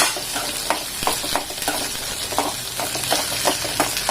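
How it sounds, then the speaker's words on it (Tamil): Tomatoes added to shallots sizzle and fry steadily in a pan for a Tirunelveli egg curry, with a spoon stirring and scraping in regular strokes, loud and close, with no talking. "சின்ன வெங்காயம் நல்லா வதங்கினதுக்கப்புறம் தக்காளியை போட்டு நல்லா வதக்கிக்கலாம்."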